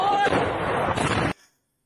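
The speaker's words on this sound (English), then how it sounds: "The explosion is going insane. There's ammunition flying everywhere. It's exploding midair." A train blowing up with its ammunition exploding in midair gives a loud, close, continuous roaring blast that cuts off abruptly after about a second.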